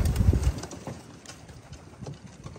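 Racing pigeons land at their loft after a road training toss, with soft wing flutters and scrabbling thumps close by, then faint coos and light tapping movement under quiet background noise.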